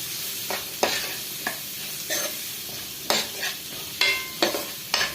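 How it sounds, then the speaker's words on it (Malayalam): Onions being sautéed in a pan for a prawn fry, a close, steady sizzle punctuated by roughly eight distinct scraping strokes of a spatula at uneven intervals. "ബാക്കി ഇരിക്കുന്ന ഉള്ളിയും കൂടെ നന്നായിട്ട് ഒന്ന് വഴറ്റിയെടുക്കാം"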